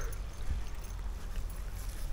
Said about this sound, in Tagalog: May andar ng makina.